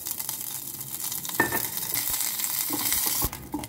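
Food browning in ghee in a pan, a continuous close sizzle broken by a few sharp stirring scrapes and clinks.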